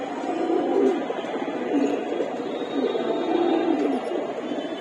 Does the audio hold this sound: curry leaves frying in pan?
no